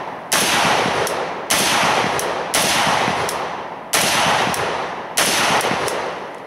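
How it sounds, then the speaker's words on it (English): Five loud, close rifle shots from an Arsenal SGL 21 AK without a muzzle brake, fired at roughly one-second intervals, each sharp crack trailing into a long echoing decay outdoors. "we're going to shoot the gun without a brake on it and just see what that looks and feels like"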